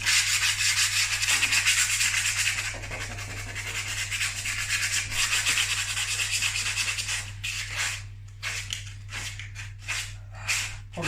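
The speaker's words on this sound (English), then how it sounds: "don't go too crazy with the sanding. Just want it nice and smooth." Hand sanding of a rotten wooden window frame under repair, a continuous rasping scrub that later breaks into short separate strokes.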